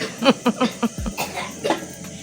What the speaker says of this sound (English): as you could hear my kids coughing in the background.